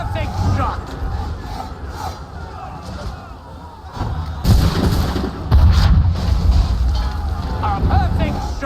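Cannon fire during the Battle of Monmouth in Assassin's Creed III, heavy booms erupting in bursts over rumbling battle noise and wind, with a voice calling out over the fighting.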